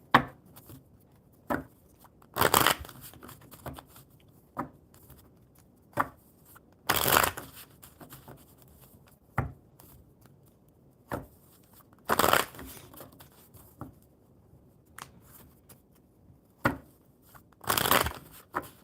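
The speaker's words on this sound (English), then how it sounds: "One more good shuffle." Tarot cards are shuffled by hand in repeated bursts, each a quick papery riffle and slap, spaced a few seconds apart. Between bursts there are softer handling noises and a quiet room.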